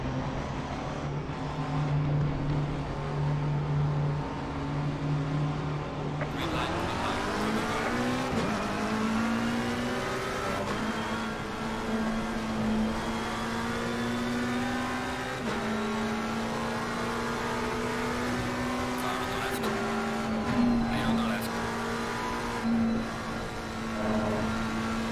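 A McLaren 720S GT3 race car laps Silverstone in the Assetto Corsa Competizione racing game, its engine droning steadily and rising in pitch through gear changes, loud and continuous without any talk.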